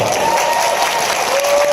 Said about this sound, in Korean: 아, 박수 한 번 주세요.